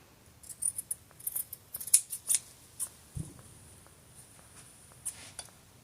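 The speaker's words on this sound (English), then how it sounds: "just trimming the excess off" Scissors snip through excess fabric being trimmed from a steering wheel cover, a quick run of close, crisp cuts with short pauses between, fairly quiet and with no talking.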